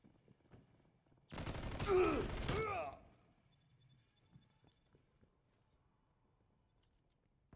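Call of Duty Cold War gunfire, one dense loud burst lasting about two seconds, then quiet game ambience with faint clicks, without talk.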